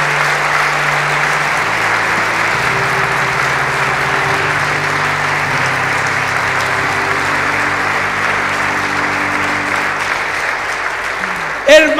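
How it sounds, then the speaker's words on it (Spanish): A church congregation applauds for Jesus Christ during a Christian sermon, producing sustained, dense clapping that holds steady for the whole stretch under a low sustained tone, ending with a brief louder burst. "Démosle un aplauso a Jesucristo."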